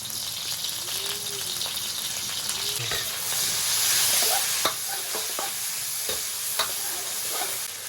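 Scallion, ginger and garlic stir-fried in hot oil make a steady loud sizzle, with scattered clicks and scrapes from stirring throughout.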